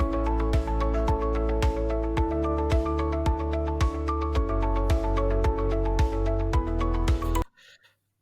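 Upbeat AI-generated corporate background music with a steady kick pulse and bright plucked chords looping evenly, then cutting off abruptly near the end.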